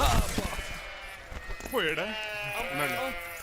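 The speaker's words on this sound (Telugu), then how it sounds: "గొర్రెలు" Sheep bleat in a comedy scene, two wavering, drawn-out bleats rising out of the mix after a stretch of lively talk, fairly close and clear.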